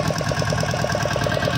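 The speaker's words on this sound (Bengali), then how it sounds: "নৌকার ইঞ্জিন।" An outboard engine on a fishing boat off Sagar Island runs close by with a loud, steady, rapidly pulsing mechanical thrum and no voices.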